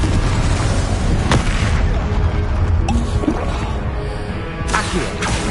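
Confringo fire spells explode in Hogwarts Legacy combat, sharp booming bursts over a steady rumbling battle background, with a few distinct hits spaced across the moment.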